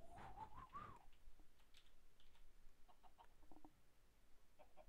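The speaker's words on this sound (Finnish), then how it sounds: "Vittu kana!" A Minecraft chicken gives a short series of chirpy clucks at the start, then faint scattered game noises follow over quiet background.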